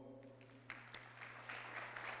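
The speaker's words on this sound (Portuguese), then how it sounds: "Vamos aplaudir ao Senhor." A church congregation applauds during a worship service, steady clapping that swells and thickens toward the end, fairly quiet and heard alone.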